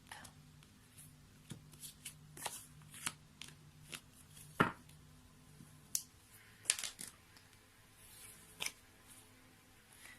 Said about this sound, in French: Donc, on va couper le jeu.